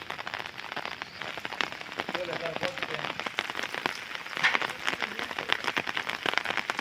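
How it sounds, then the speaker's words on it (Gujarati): Rain falls steadily during a windstorm over a village farm field, a constant hiss broken by sharp drop impacts, with a faint voice briefly underneath. "વાવણી લાયક વરસાદ કહેવાય"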